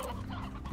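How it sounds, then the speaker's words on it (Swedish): Chickens clucking in the farming game Slime Rancher, a short busy burst of fowl calls close by, steady and unbroken with no voices over it. "Det var bara kycklingar här"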